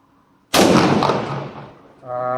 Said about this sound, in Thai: ผมจะลองบรรจุยิงด้วยลูกสามแปด สามแปด สี่นิ้วนะครับ ในระยะประมาณสี่ห้าเมตรนะครับ ยิงด้วยมือขวาครับ